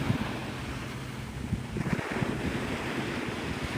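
Ocean surf at Navarre Beach, Florida at sunrise: a continuous broadband wash of breaking waves mixed with wind noise, steady and fairly faint with no voices.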